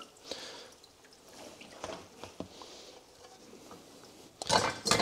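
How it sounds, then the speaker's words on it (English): Water drips and squishes out of blanched kale as it is squeezed by hand, with scattered soft patters that swell into a louder wet squeeze at the end. "try to get as much of the water out as you can"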